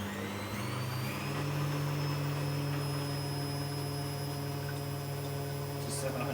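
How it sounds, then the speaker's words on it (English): A Candy Smart Pro washing machine runs its service-mode drum spin test, a steady motor hum and whine with a rising tone early on, continuous and fairly close. "this is where it does the spin test"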